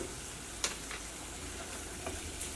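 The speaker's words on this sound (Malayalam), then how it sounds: "ഈ മഞ്ഞൾപ്പൊടിയും അത് കിടന്നിട്ട് നന്നായിട്ട് മുരിയട്ടെ" Turmeric powder fries quietly in oil in a pan for a curry, a low steady sizzle with a few light spoon taps and scrapes scattered through; faint and close, with no voices.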